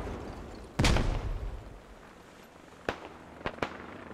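A grenade explosion in the video game Squad, one sharp loud blast with a decaying rumble, followed by a few fainter distant gunshot-like cracks.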